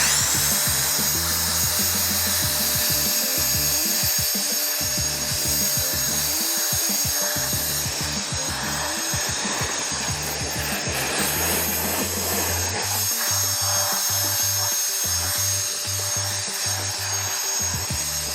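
Jufinx cordless turbo fan leaf blower drying off a vehicle, a loud, close, continuous high-pitched motor whine and rushing air that runs the whole time, with the motor pitch wavering and dipping in spots.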